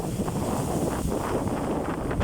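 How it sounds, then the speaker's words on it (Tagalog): Strong wind roars steadily across the microphone at 7 a.m. at sea, with the churn of open water beneath it. "Malakas yung hangin"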